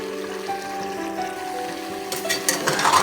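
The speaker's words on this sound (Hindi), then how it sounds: "लेकिन अभी हमने 10 मिनट्स और इसको फ्राई करना है" Mutton pieces fry in a pot for Peshawari namkeen gosht, giving a steady, close sizzle with a faint tonal hum beneath it that grows a little brighter and louder toward the end.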